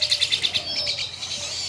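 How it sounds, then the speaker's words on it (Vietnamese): Recently hatched chích cồ chicks give a quick run of high, rhythmic chirps that fade into softer calls. The chirping is close and alone. "đây là chim chích cồ,"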